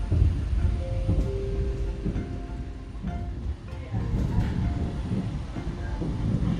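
KA Taksaka Tambahan passenger train arriving at Jatinegara station, a steady low rumble of wheels and carriages with a few faint tonal squeals and wind noise, moderately loud and continuous throughout.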